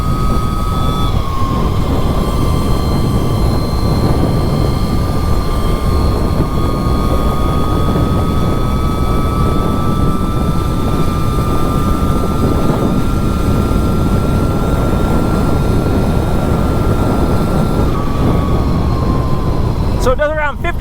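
An Electro & Co Rizzler electric bike running on a 72 volt battery rides at speed, with a steady roar of wind and a high motor whine held nearly constant the whole way through.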